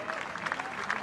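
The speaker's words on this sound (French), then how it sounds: "Donc applaudissements de nouveau pour les trois premiers de ce beau tableau" Applause for the 2015 Tour de France final podium, a dense, steady wash of clapping from a crowd with a voice mixed in.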